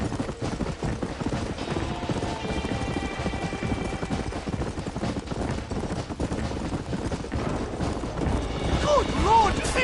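A horse gallops in Red Dead Redemption on PS5, its steady hoofbeats running under a dense wash of game sound, with a brief voice rising near the end.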